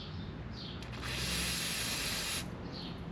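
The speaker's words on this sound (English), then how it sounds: "Let's spray that with some stuff." Cleaner sprays onto freshly tightened parts of a 1977 Corvette, a close, airy hiss that builds briefly, holds for about a second and a half and then cuts off, with quieter short sprays around it and no talking.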